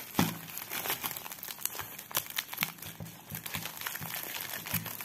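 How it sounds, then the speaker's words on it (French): A bubble-wrap lined packaging pouch crinkles and crackles steadily while being handled during an unboxing of cross-stitch craft supplies, with close, irregular rustling bursts and no voices. "une pochette comme ceci avec un fond tout en bulle, donc tout est bien protégé"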